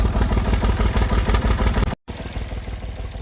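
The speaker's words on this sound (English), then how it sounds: "while I have the tractor going with the blade on it" A tractor fitted with a scraper blade runs nearby with a loud, steady chugging engine rhythm and mechanical clatter, broken by a brief cut near the middle.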